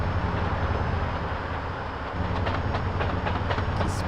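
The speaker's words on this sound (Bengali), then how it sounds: "ভাই রে ভাই, কেবল ট্রেন চললাম আর এখনই কি স্পিড!" A train running at speed gives a loud, continuous rumbling roar from on board, with rhythmic clattering wheel beats coming through over the last couple of seconds and no one talking.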